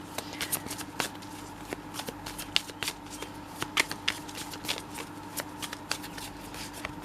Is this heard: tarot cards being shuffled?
yes